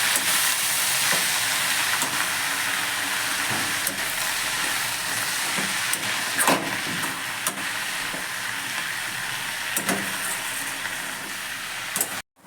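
Leafy beto greens fry in a pan with a steady, fairly loud sizzling hiss, punctuated by repeated scraping strokes of stirring, ending abruptly.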